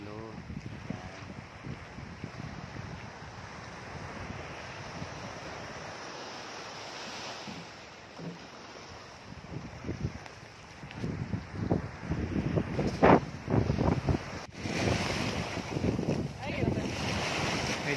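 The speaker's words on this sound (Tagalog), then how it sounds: "Medyo malakas po yung alon kasi malakas yung may ang tawag po natin sa ating levels norte" Strong surf breaks on a beach at Black Island under blustery wind, with buffeting microphone gusts and repeated surges of crashing waves that grow louder in the second half; a voice talks over it at times.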